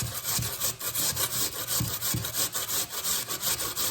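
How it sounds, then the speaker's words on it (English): Potatoes grated by hand onto a clean tea towel, producing rapid, rhythmic rasping strokes close up, steady and fairly loud throughout with no voices. "So I'm going to start off by grating the potatoes, just like that."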